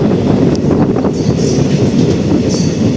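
Loud, close rumble of the Garudadri Express running on the rails near Tirupati, with a dense roar of wheels, rhythmic clatter and occasional high squeals from the wheels.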